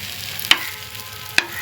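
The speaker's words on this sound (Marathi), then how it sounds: "आता ती आपल्याला तेलात शिजून घ्यायची आहेत वांगी" Brinjal pieces fry gently in oil over a low flame, a soft steady sizzle broken by two sharp clicks of a utensil against the pan as they are turned, close and quiet.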